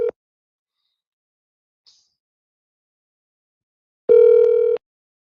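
An outgoing phone call rings on the line, with two clear, steady electronic ring tones separated by a long silence. Each tone is close and moderately loud, and the second lasts under a second.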